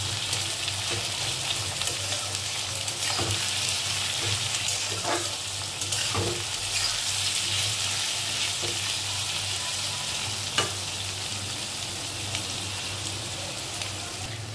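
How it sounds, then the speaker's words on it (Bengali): Chopped onion and tomato frying in a pan, giving a steady, dense sizzle throughout with occasional soft stirring scrapes and no talking. "পেঁয়াজের সাথে টমেটো দিয়ে দিলাম।"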